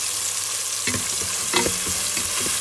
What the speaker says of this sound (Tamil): வெங்காயத்தை சேர்த்துட்டு அழகாக நம்ம இதை வதக்கிக்கலாம்.